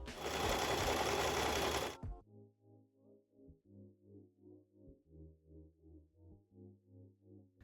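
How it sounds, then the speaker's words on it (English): A sewing machine stitching stretchy fabric pieces wrong sides together, its motor purring in a steady pulsing rhythm close by after a burst of broadband noise at the start, with no talk. "I'm going to place my fabrics wrong sides facing, and I'm just going to stretch as I sew"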